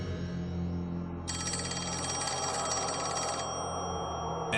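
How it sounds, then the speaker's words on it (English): A telephone rings over a steady low hum, one long burst of ringing in the middle of the stretch, moderately loud and with no one speaking. "and the phone began to ring again, a call Philip chose not to accept"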